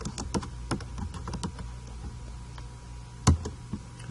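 Quick, irregular clicks of typing on a computer keyboard, close and crisp, with a sharper louder keystroke near the end and short pauses between bursts.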